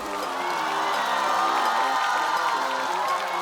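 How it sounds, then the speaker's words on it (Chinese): Studio audience at a stand-up comedy show bursts into sustained applause and cheering, a dense crowd roar with whoops, holding at full level throughout. "掌声欢迎1倒数小队的于国浩"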